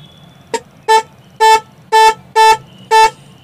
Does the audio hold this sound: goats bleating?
no